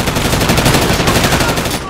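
Continuous automatic gunfire from a video game rattles in a fast, even stream of close, loud shots for the whole moment.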